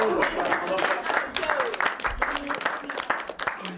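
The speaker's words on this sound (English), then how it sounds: "give yourselves a round of applause" Applause from a group of children on a school residential trip to the Isle of Wight, a dense, steady clatter of many small hands filling the whole stretch, with some voices mixed in.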